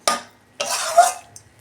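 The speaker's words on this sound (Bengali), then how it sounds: "আমি ঢাকনা খুলছি" A lid comes off a cooking pot of vegetarian cabbage curry, making a short metallic clink followed by a longer scraping clatter, close and alone, without talk.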